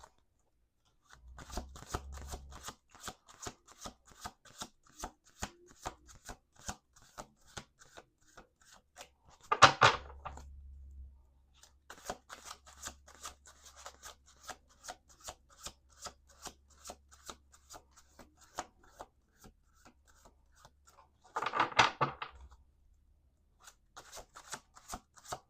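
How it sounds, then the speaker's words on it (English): Tarot cards are shuffled in a steady run of soft, rapid riffling clicks, with two louder bridge-style riffles about twelve seconds apart, close up and quiet, with no talking. "Let's do 2 more shuffles here."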